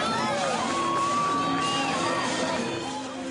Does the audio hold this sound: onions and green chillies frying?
no